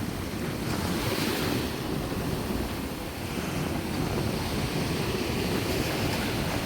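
Rough sea waves break in a continuous, loud surf roar mixed with gusting wind, offshore during heavy seas where fishermen are out. No one speaks.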